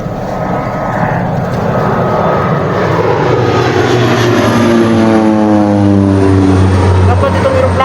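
An airplane drones overhead, a loud, steady engine rumble with a slowly shifting pitch that swells toward the end, heard outdoors.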